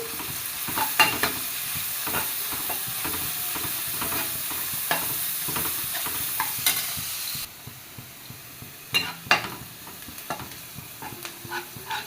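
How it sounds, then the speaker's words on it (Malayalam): Onion and ginger fry in coconut oil in a pan on the stove, a steady sizzle broken by repeated scraping and tapping of a spatula stirring, close and moderately loud, quieter toward the end. "ഇതാ ഒരു പാൻ അടുപ്പത്ത് വെച്ചു, വെളിച്ചെണ്ണ ഒഴിച്ചു കൊടുത്തു. ഇതാ സവാള ഇഞ്ചി ഇട്ട് കൊടുത്തു."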